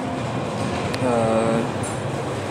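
A metro train waits at a metro station under a steady broadband rumble and hiss, with brief tonal squeals and a short rise in level midway, plus faint background voices.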